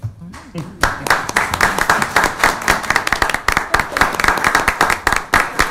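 A small group at a city council meeting claps steadily for several seconds after a motion carries, the sharp hand claps dense and close, with a brief pause at the start before the applause builds.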